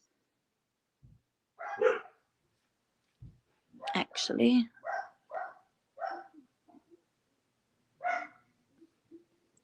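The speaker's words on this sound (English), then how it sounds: "I know my dogs are loud" Several dogs bark in short bursts, some sharp and loud, others softer, with brief pauses between, and a person speaks a word among them.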